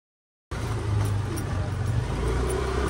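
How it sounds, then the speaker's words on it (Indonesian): A car passes close by in a narrow residential alley in Makassar, its engine and tyre noise a steady broadband rumble that cuts in abruptly and holds loud for the rest of the moment, with no talking. "Ini juga masih dilalui mobil."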